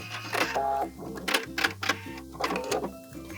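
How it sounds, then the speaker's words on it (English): A sewing machine runs in short rhythmic bursts while stitching a purse seam to the top with a back stitch, the motor whirring and pausing several times. "We're going to sew to the very top, back stitch, and then cut."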